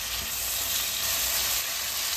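Chopped tomato frying in oil in a pan while making upma, a steady, close hiss of sizzling with no break and no voices.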